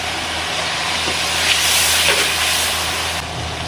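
A spice paste with salt and a splash of water sizzles and hisses steadily in a hot pan while frying for a green jackfruit kofta curry; the sizzle is close and fairly loud, swelling briefly midway.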